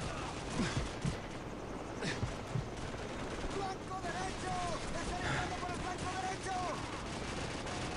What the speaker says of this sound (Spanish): Alguien me está disparando arriba del colectivo